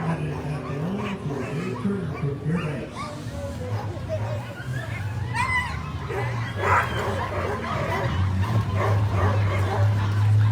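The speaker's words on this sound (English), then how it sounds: "Those handlers help keep those excited dogs in line." Excited sled dogs in an open-class championship race start bark and yip in a crowded street, sharp overlapping barks over a steady crowd murmur and announcer talk throughout.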